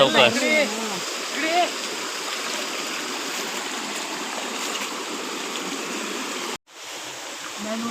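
Water flows and gurgles steadily through a stream at night in the Konkan countryside during crab hunting, a constant close rush with voices talking over it early on and a brief dropout near the end.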